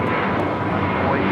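At LAX, a passenger airplane roars loudly and continuously on takeoff, with broadband engine noise filling the whole moment.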